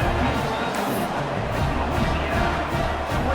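A stadium crowd at a college football game cheers steadily, a broad roar that stays even and continuous with no breaks.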